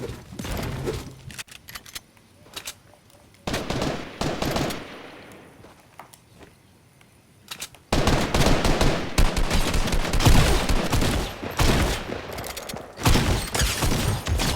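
Bursts of Fortnite shotgun fire, several loud shots in quick succession with pauses between, then a dense stretch of repeated firing and mechanical clatter.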